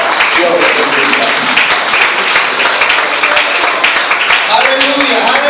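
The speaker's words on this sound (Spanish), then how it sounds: "Démosle un aplauso al Señor en esta mañana." A church congregation at a Sunday service applauds together, dense clapping sustained and loud throughout, with voices calling out beneath it.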